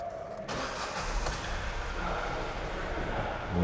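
A Ford Ka 1.0 12V three-cylinder engine with about 103,000 on the odometer and a knocking, vibrating, misfiring fault cranks briefly and then catches into a steady, rough running rumble, recorded close with no talking.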